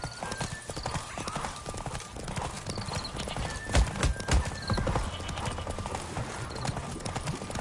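Roach, the horse in The Witcher 3, gallops with a steady rapid clip-clop of hooves close by, under a continuous wash of music and game ambience, with a few heavier thuds midway.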